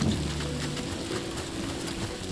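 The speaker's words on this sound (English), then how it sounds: "I can feel the rain" Steady rain pours in Death Stranding 2, a dense continuous patter of drops on surfaces with a low background hum, constant and fairly loud.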